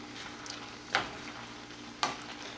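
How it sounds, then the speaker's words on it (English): Chopped ingredients being stirred into a sizzling pan of bean sprout spaghetti: a steady low frying hiss runs throughout, broken by two sharp scraping stirs about a second apart, close and moderately loud. "I'm just going to stir those in."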